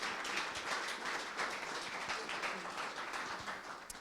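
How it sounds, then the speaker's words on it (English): An audience at a Deep Talks public lecture event breaks into applause, a steady dense wash of many hands clapping that holds throughout, heard from within a room at moderate level. "So can you guys give them a round of applause"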